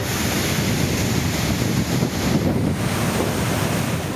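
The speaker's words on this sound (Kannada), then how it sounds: "ಕ್ರಸ್ಟ್ ಗೇಟ್ ಚೈನ್ ತುಂಡಾಗಿರೋ ಪರಿಣಾಮ ತುಂಗಭದ್ರಾ ಜಲಾಶಯದಿಂದ ಲಕ್ಷ ಕ್ಯೂಸೆಕ್ ನೀರು ಪೋಲಾಗ್ತಿದೆ" Water gushes out of the Tungabhadra dam through crest gate 19 after its chain snapped, a steady, loud, broadband roar of rushing water mixed with wind buffeting the microphone.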